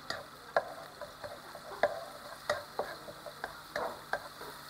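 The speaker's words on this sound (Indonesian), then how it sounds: "Kita tumis sampai harum." Chopped shallots and garlic sautéed in butter or margarine in a pan, a soft steady sizzle broken by a spatula scraping and tapping about twice a second, close and without talk.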